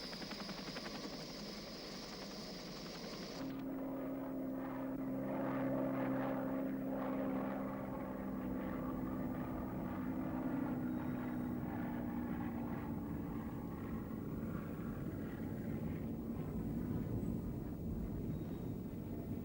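Sikorsky CH-54 Tarhe flying crane helicopters carrying slung howitzers, a steady loud rotor and engine drone with a low hum that holds throughout after a brief lighter opening.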